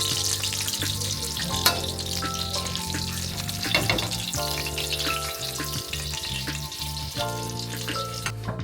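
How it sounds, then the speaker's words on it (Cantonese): Mackerel sizzles steadily in a hot pan, a constant crackling fry with occasional louder pops and no talking. "依家煎一煎佢先"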